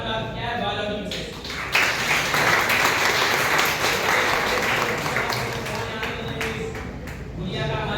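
Audience applause at a girls' honour ceremony marking the tricentenary birth anniversary of Devi Ahilyabai Holkar, steady dense clapping from a crowd that holds strong throughout, with a voice speaking over it.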